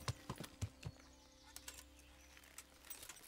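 Horse hooves clopping in the medieval game Kingdom Come: Deliverance, a handful of soft, uneven thuds in the first second before the steps fade into quiet woodland ambience.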